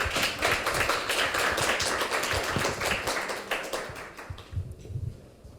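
An audience at a forum session on the climate crisis claps steadily, a close, fairly loud patter of many hands that thins out and fades near the end.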